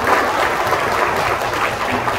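Applause fills the room at a Korean Automobile Day ceremony in a hotel hall, a dense, steady clatter of many hands clapping for the whole stretch.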